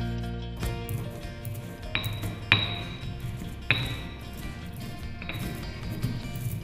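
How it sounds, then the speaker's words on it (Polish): A pestle strikes and grinds coriander seeds, cloves and gingerbread spice in a mortar, giving a few sharp ringing clinks among softer crunching and scraping, close and clear with no voices. "Przyprawy rozdrabniamy tłuczkiem."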